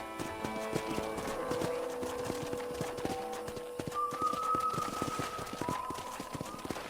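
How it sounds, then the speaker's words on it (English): Horse hooves clip-clopping steadily as a rider travels toward a ranch in Red Dead Redemption on PS5, a brisk even gait heard close alongside faint game music tones. "let's see if you can still ride a horse"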